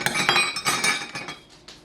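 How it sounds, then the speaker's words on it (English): A giant wooden spoon stirs a pizza dough yeast mixture in a bowl, making a quick run of bright clinks and knocks against the bowl that fade out after a couple of seconds. "Stir it in like so."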